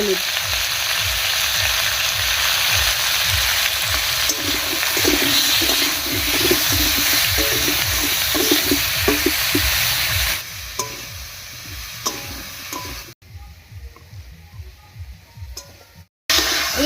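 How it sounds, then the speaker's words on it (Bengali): Potatoes fry in a pan for a fish curry, a close, busy sizzle with stirring scrapes that turns quieter and patchier toward the end, with a few brief cut-outs. "অবস্থায় আলুগুলোকে একটু ভাজা ভাজা করে নেব"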